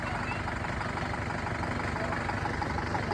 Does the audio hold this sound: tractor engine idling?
yes